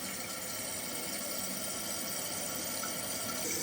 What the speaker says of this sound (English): The water level is rising.